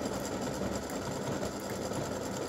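A sewing machine runs steadily while it stitches around a lace design for a breast cancer awareness ribbon, giving a loud continuous mechanical whir and hum with no pauses and no speech.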